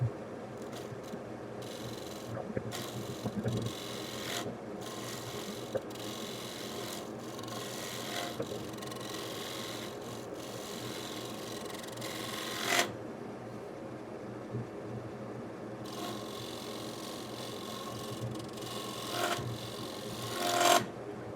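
Steel scraper cutting a footless wooden bowl on a lathe, giving a steady raspy rubbing with bursts of bright scraping and occasional catches, close and continuous with no talk.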